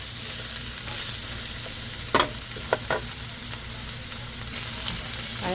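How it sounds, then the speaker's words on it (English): Tofu fries in a pan with steady, close sizzling and a few sharp utensil clicks as it is stirred, no voices. "My tofu, they still cooking."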